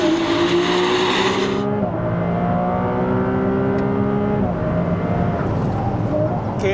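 A Ferrari 296 GTS on a track lap roars loud and close, its engine climbing through high revs, dropping on a gearshift, then pulling up again in a continuous howl.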